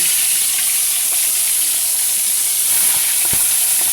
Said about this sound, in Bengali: দেখো ইলিশ মাছের মাথাগুলো ভাজতে দিয়ে দিয়েছি আমি কড়াইতে।